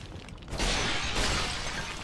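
A clay pot breaking in the Dark Souls video game, one sharp shattering crash followed by a second crunchy burst of falling shards, loud and close, with no voices.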